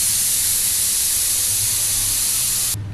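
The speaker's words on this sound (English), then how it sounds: "Now I have released the pressure of the pressure cooker." A pressure cooker cooking vegetable dum biryani vents steam in a loud, steady, close hiss that runs continuously and then cuts off abruptly near the end.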